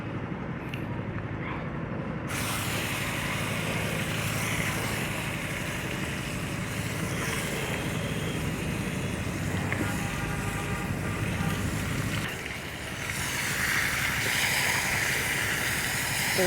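Chicken meat dropped into a hot pan with whole cumin for a Bengali-style chicken dish, a broad steady sizzle and hiss that jumps in suddenly and roars on continuously, loud and close, surging again near the end.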